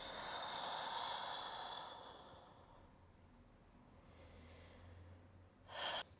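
Slow yoga breathing, a long airy exhale fading out, then quiet, followed by a short sharp breath near the end, close and soft.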